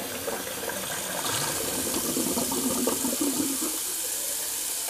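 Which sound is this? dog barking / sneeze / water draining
water draining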